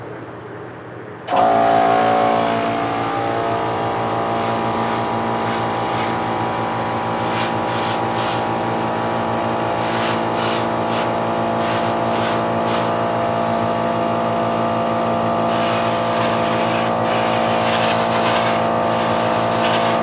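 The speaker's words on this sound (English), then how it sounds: "Let me kick on the compressor." An air compressor for spray painting kicks on after a moment of quiet and then runs at a steady, loud, tonal drone. Short hissing bursts of spray come and go over the top.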